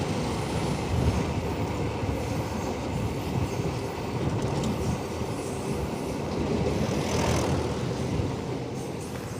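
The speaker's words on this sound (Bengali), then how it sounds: "পাশ দিয়ে ট্রেন যাচ্ছে" A train runs alongside a vehicle crossing the Farakka Barrage, its loud, steady rumble and wheel clatter continuing close by without a break and with no talking.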